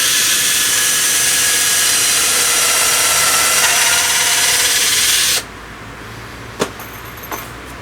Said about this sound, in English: drill into the sides here, straight through and just screw through into the board behind